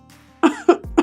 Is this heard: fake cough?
yes